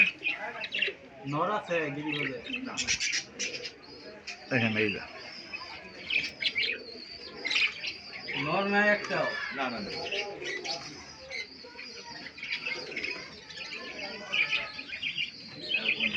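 Pigeons coo and chirp inside a pigeon and bird shop, several birds calling in short repeated bursts close by, with someone talking briefly over them.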